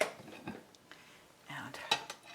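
Utensils scrape and clink against a plate while ranch ham and cheese pasta is mixed, a few soft, close, brief scraping strokes spaced over a couple of seconds, quiet overall.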